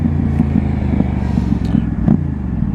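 Motorcycle fitted with an IXL Hyperlow exhaust and a new clutch, heard up close as the engine rumbles and blips through smooth downshifts, a steady deep burble with brief revving peaks.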